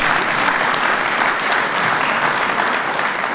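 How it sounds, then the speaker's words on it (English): An audience applauds at a presidential speech on fatherhood, a steady, dense wash of clapping from a large crowd that holds at even loudness throughout. "Give him a round of applause anyway."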